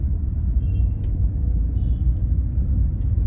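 A learner car, Sangam Motors driving school, setting off in first gear during a driving lesson: a steady low engine rumble heard from inside the cabin, with no voices.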